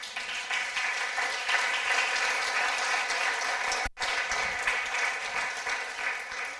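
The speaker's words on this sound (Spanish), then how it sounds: "Y le damos un aplauso de alabanza." Dense applause from a church congregation, steady and fairly loud, with a brief cut partway through before the clapping resumes.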